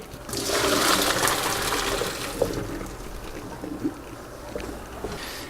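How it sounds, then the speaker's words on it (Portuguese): Cooked fettuccine being drained, a loud rushing pour of hot pasta water that swells early and then settles into a gurgling trickle, close up with no talk. "Nossa massa ficou cozida. Vamos escorrer ela aqui."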